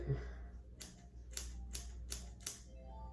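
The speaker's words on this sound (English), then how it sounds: "I'm gonna use the scissors and I'm gonna create a line like this." Several crisp snips of scissors cutting hair sound in a slow, even rhythm, close and sharp over a low background hum.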